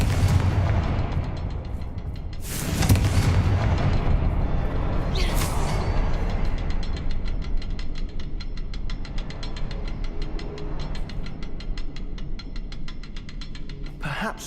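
Booming blasts from the Confringo spell in Hogwarts Legacy, with two loud bursts early on over a dense, continuous rumble of game combat that carries on steadily to the end.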